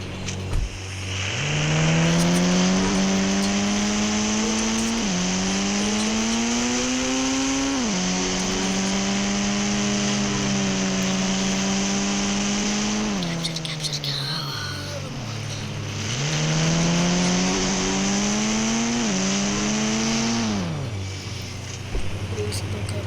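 A car in a police job video game drives and accelerates, its engine droning with repeated rising pitch sweeps as it revs through gears, steady and prominent over a long stretch, with quiet speech faintly beneath.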